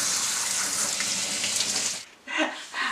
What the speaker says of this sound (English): I'm going to rinse my hominy, because as you can see it's kind of stuck together